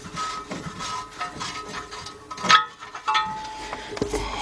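O2 sensor being unscrewed by hand from the exhaust of a 2001 Chevy Tracker 2.5: irregular close metallic scrapes, creaks and small clinks, with one louder knock midway, quiet overall.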